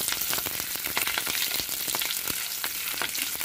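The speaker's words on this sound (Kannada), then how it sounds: "ಕಡಲೆಬೇಳೆ ಉದ್ದಿನ ಬೇಳೆ ಎಲ್ಲ ಒಂದು ಸ್ವಲ್ಪ ಕೆಂಪುಗಾಗಿ ಹದವಾಗಲಿ ಒಗ್ಗರಣೆ" Chana dal and urad dal fry in oil for a tempering, a close, steady crackling sizzle with dense tiny pops and occasional sharper spits throughout, no voices.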